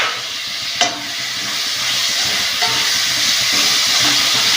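Chopped tomatoes fry and get stirred in a pan along with mint, giving a loud, steady sizzle and hiss with an occasional scrape of the spoon, close by and with no one speaking.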